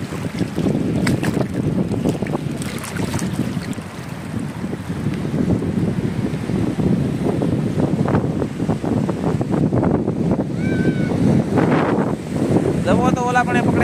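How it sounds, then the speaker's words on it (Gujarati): Strong wind buffets the microphone while waves slap and wash against a boat on open water, a constant loud roar of gusts and water throughout, with brief distant sounds in the background. "પવન આવે એટલે મોજા તો થાય જ."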